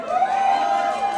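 A crowd at a dance event in Oaxaca cheers loudly and steadily for a dancing couple, a dense roar of voices and whistles lasting about a second with no pause.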